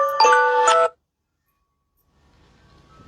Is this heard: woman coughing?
no